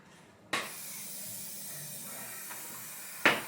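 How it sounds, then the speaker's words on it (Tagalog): Hair spray from an aerosol can hisses in one long sustained burst, close and steady, with a short sharp spritz at the end. "Spray na lang kita na. Para mas mabilis."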